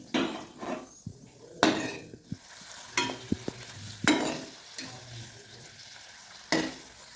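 Puris deep-frying in oil over a medium gas flame, a bubbling fry with scattered clatters and sharp knocks of a utensil against the pan, fairly close and without speech.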